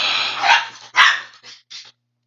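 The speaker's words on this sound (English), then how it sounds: "my dog's ripping around right now" A dog barks four times in quick succession close by indoors, the loud barks tapering off, with no talk over them.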